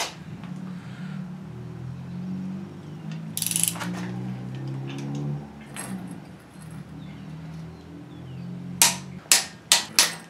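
Ratcheting wrench tightening cylinder head bolts on a Subaru EJ engine, a low mechanical hum at first, then a quick series of four sharp ratchet clicks close by near the end.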